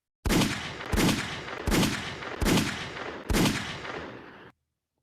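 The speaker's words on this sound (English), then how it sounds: "anytime if the gunshots go off" Five loud, evenly spaced gunshots ring out alone, each a sharp blast with a short decaying tail, about one per second.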